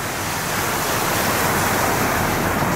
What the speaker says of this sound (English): Now, the water fountain that you're observing around you,